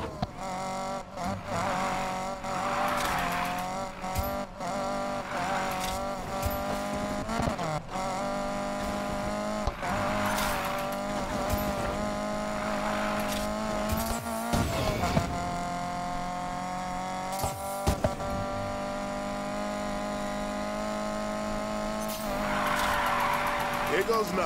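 A car drifting in Need for Speed Payback, tires squealing in long sustained screeches over a loud, continuous engine drone, with a few brief harder bursts.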